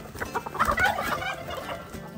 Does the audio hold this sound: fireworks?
no